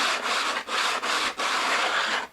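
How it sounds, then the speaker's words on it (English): A sanding block is rubbed back and forth along a panel edge during crash repair, giving a steady, close abrasive rasp in three long strokes with brief pauses between them. "I've taken a sanding block, and what I want to do is true up the edge"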